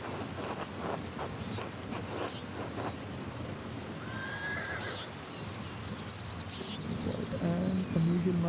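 Rain falls steadily and softly in the Pentiment video game, a quiet continuous hiss with a few faint scattered calls and thuds on top and no talking.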